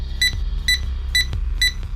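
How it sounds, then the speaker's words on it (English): Four evenly spaced electronic beeps in Ty the Tasmanian Tiger, each a short bright double tone, repeating steadily over a low background hum. "What's that beeping?"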